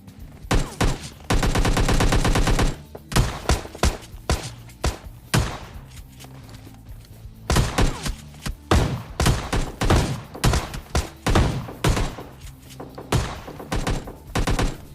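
Rapid gunfire in the video game PUBG, a sustained automatic burst followed by repeated loud single and clustered shots and thumps, dense and close throughout.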